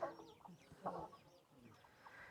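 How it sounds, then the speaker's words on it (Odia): Desi chickens cluck softly and intermittently outdoors in a Koraput village in Odisha, with faint bird calls and quiet village background around them. "ଏଇଠି ଦେଖନ୍ତୁ କେତେ ଦେଶୀ କୁକୁଡ଼ା। ଏ ଗାଁରେ ଘରେ ଘରେ କୁକୁଡ଼ା ସବୁ ରଖିଛନ୍ତି।"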